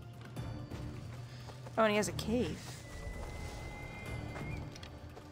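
A single horse whinny rises and falls briefly in Assassin's Creed Odyssey amid soft background noise, with a person speaking over the scene.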